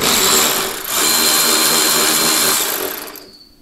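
Ratchet turning a body bushing bolt on a Pontiac GTO during a polyurethane body bushing install, giving a loud, continuous whirring rasp close by for about three seconds with a brief dip, then fading.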